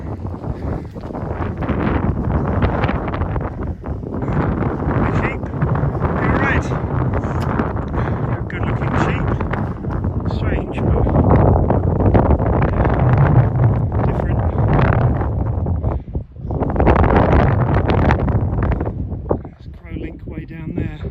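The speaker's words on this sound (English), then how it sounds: "Way down there, so windy." Strong wind buffets the microphone with continuous roaring gusts on a walk through Friston Forest, and a voice talks over it.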